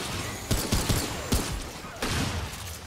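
Shotgun blasts from the video game Remnant 2 boom in a rapid run of several sharp shots, loud and close over a background of game ambience.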